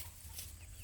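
A big yellow backyard chicken makes a faint, brief cluck close by in quiet outdoor surroundings.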